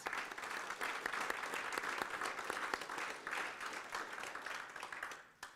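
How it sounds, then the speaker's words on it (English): Audience applause at a New Zealand landscape photography salon presentation, a steady dense clapping from a sizeable crowd sustained for several seconds before tapering off at the end. "So please, a round of applause for Dennis."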